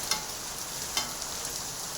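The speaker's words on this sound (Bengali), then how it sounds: "দেখো মাছটা ভালো করে কষা হয়ে গেছে।" Fish sautéing in a pan sizzles in a steady, quiet hiss, with a couple of brief stirring clicks and no voices.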